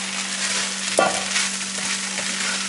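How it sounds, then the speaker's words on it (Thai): Oyster mushrooms dry-roast in a hot, smoky pan for an Isan-style breakfast, a steady sizzling hiss broken by one sharp scrape of stirring near the start and softer stirring after, with no voices. "อันนี้ก็จะคั่วเห็ดจนแห้งเช่นกัน จนเห็ดสุกนะคะ"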